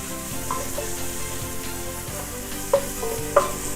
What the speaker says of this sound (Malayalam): അതിൻ്റെ കൂടെ തന്നെ സവോള അരിഞ്ഞു വെച്ചിരിക്കുന്നത് ഇട്ട് കൊടുക്കാം, ഓണിയൻ.